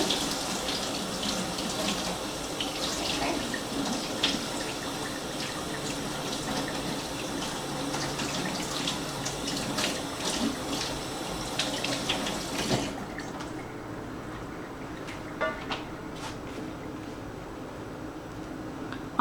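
Tap water streams into a kitchen sink while food for a collard greens and bacon meal is rinsed, a steady close splashing rush that cuts off abruptly near the end, leaving a few drips and clatters.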